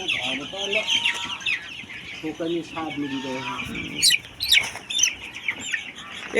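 Young Sonali chickens cluck and chirp in a group nearby on a poultry farm, with irregular overlapping calls and a few sharper squawks.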